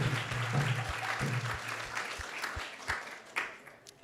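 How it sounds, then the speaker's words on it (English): An audience at an ISKCON devotional gathering gives a round of applause for someone speaker after her talk, a fairly quiet, dense patter of clapping that thins out toward the end into a few scattered claps. "let's give her a big round of applause"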